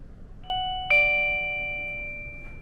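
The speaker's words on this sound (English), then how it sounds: "It sends an alert to this little monitor that we keep by us, and it just says essentially, ding dong, hello, welcome." An electronic two-tone ding-dong chime from a small motion sensor alert monitor kept nearby, sounding twice in quick succession and ringing out clearly in a quiet room.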